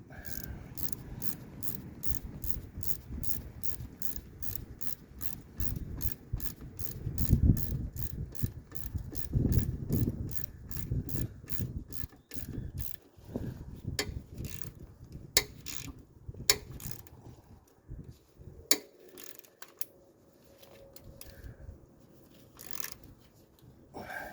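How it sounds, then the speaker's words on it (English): A ratchet wrench tightening a nut at the rear of a 2000 Kia Sportage, rapid regular clicking in close bursts that slow into separate, spaced clicks and metallic knocks toward the end. "Set our wrench to the right, destruction here. Level of destruction required. And we'll tighten that up."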